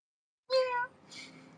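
A cat gives a clear meow, close and fairly loud, then a second softer, shorter meow follows after a brief pause.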